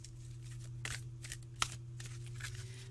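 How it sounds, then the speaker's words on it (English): Transparent plastic tarot cards are shuffled by hand, giving a few soft, crisp riffling bursts and one sharper snap over a steady low background hum, quiet and close. "So interesting shuffling, like blatantly plastic cards."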